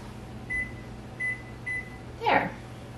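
A kitchen timer is set for boiling eggs: three short electronic beeps sound as its buttons are pressed, followed by a brief clatter. A steady low hum runs underneath.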